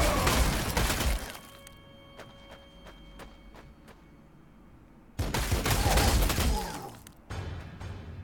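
Bursts of return gunfire in the Warhammer 40K strategy game Sanctus Reach: a dense volley, then sparse sharp single shots, then two more heavy loud barrages with crashing impacts.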